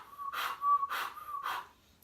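Three rhythmic whistling exhalations, close and fairly soft, produced by breathing through a taut mouth during a Kundalini yoga breathing exercise, with a faint steady whistle lingering between breaths and no talking.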